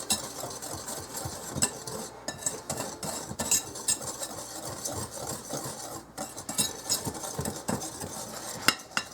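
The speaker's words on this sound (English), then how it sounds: "kind of mix that together a little bit" Key lime bar ingredients, including flour, being mixed together in a bowl: steady clinking and scraping of a utensil against the bowl, close and continuous, with no talk.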